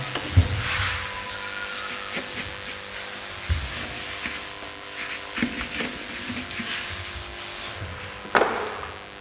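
Writing is rubbed out on a classroom board, giving a continuous scratchy rubbing with a few soft knocks and thuds scattered through it, fairly close and alone.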